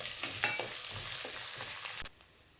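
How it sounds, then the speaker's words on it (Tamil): Onions sautéing in a pan for a radish-leaf poriyal, a close, continuous sizzle with soft stirring scrapes that cuts off abruptly near the end. "அடுத்ததாக எடுத்து வச்சுருக்கிற வெங்காயம் இதையும் சேர்த்து வதக்கிடலாம்."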